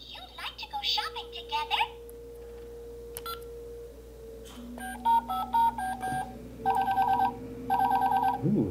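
Button presses on a Minnie Mouse Bow-Tique toy smartphone set off a series of electronic beeps, tones and short jingles, each a brief clipped burst, with a voice talking in between.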